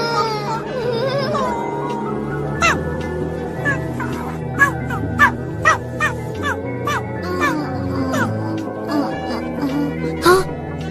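Cartoon dog yips and barks in short, repeated bursts, loud over a busy animated soundtrack of music and chattering voices, with people talking throughout.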